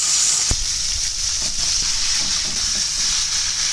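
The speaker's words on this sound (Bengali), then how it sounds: "আমি হলুদ আর নুন দিয়ে তেলটা গরম করে নিলাম, মাছের মাথাটা ভেজে নেব" Fish head frying in hot oil seasoned with turmeric and salt, a steady close sizzle with a bright hiss, a brief clack near the start and faint stirring beneath.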